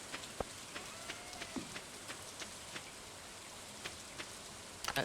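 Rain falls in the farming video game Stardew Valley, a steady soft hiss with scattered light droplet ticks, quiet and without voices.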